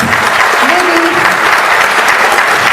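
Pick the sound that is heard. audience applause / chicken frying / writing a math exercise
audience applause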